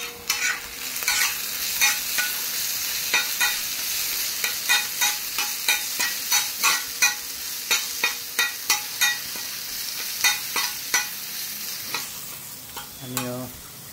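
Onion and tomato fry in a pan with salt and turmeric while a spoon stirs them in a steady rhythm of scraping strokes over a constant close sizzle, with no talking.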